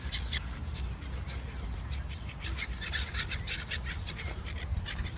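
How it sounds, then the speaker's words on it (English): Ducks quacking and other birds such as seagulls and pigeons calling at a pond, a steady scatter of short calls over constant low outdoor rumble. "There are a lot of birds, a lot of seagulls, pigeons, and ducks."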